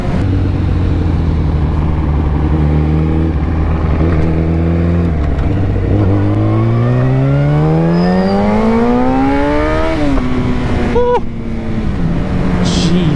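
A motorcycle engine revs hard and close, a loud, harmonic-rich tone climbing steadily in pitch, dropping back to a lower idle, then climbing again with a brief blip near the end.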